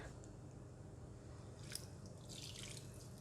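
Hot water poured into a bowl of grated coconut and salt, a soft steady splashing and trickle with a brief louder splash partway through, close and fairly quiet.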